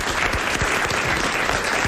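A French television studio audience gives a short, strong round of applause. Dense, even clapping fills the moment with no voices over it.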